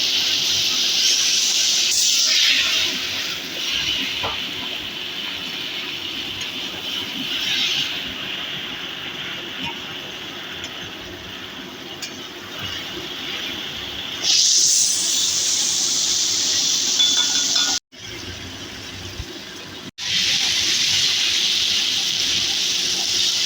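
Onions frying in a pan for a Bengali pabda fish curry, giving a steady loud sizzling hiss that swells and eases, with a couple of brief drops in sound near the end.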